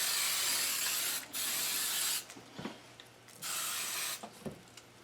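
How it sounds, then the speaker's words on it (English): A can of canola oil cooking spray is sprayed over a spatchcocked turkey before smoking. It gives three close, steady hissing bursts of about a second each, with faint handling taps and rustles in between. "We got the cooking spray. This is just normal, just canola oil in a can, in a spray."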